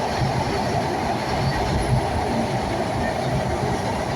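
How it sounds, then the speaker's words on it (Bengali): A long train crosses the Padma Bridge railway track, a loud, continuous rumble and roar of wagons passing close by, with steady wheel noise throughout. "পদ্মা ব্রিজ হয়ে একটা রেল আসতেছে, একটা ট্রেন আসতেছে।"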